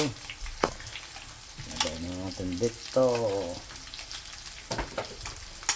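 Fish and banana sizzle and crackle in hot oil, with occasional clicks and stirring noises; a voice speaks briefly partway through.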